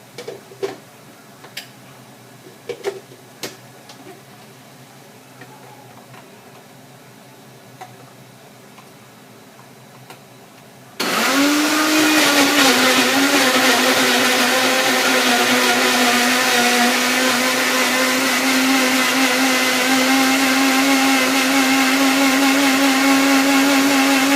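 After about eleven seconds of near-quiet broken by small clicks and ticks, a countertop blender roars up loudly and whirs steadily for the rest of the clip as it purées tomatoes into a sauce.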